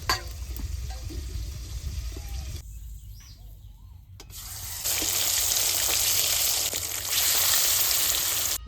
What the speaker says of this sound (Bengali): এবার গোয়ালদা চিংড়িগুলো ভেজে